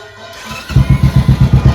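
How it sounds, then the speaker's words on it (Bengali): A 2019 motorcycle fitted with a modified silencer starts up and settles into a loud, close idle of steady, evenly spaced thumping exhaust pulses. "একবার গাড়িটা স্টার্ট করে সাউন্ডটা শুনিয়ে দিই"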